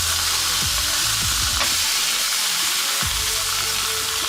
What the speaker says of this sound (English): The nice thick chops, they're cooking away.